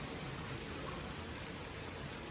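Morning rain falls steadily in hot summer weather, a dense, even hiss with no breaks, moderately loud and unaccompanied by other sounds.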